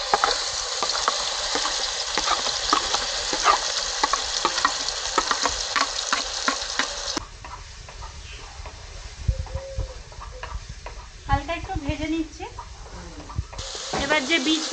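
Mustard, onion, green chili and garlic paste fries in hot oil with a loud, steady sizzle and stirring clicks, then settles into a quieter crackle midway.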